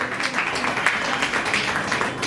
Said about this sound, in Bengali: তো হাততালি হোক মিষ্টি করে সবাই মিলে।